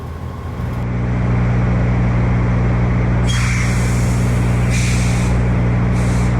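A truck backing in at a loading dock, a heavy steady diesel engine rumble, close and loud, with bursts of air hiss from the brakes breaking in repeatedly, no talking.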